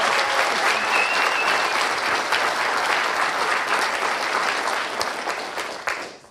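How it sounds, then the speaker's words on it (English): A live audience of nearly 200 people in New York City applauds at a talk, a dense, loud wash of clapping that holds steady and then tapers off near the end. "You can hear them, but you can give another round of applause."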